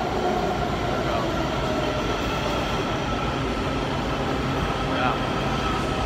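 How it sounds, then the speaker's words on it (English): A tram rolls past on a street in Adams Morgan, Washington DC, with a continuous rumbling, rattling rail noise that stays fairly loud and steady throughout, with a faint squeal near the end. "You see the tram coming on right now behind me."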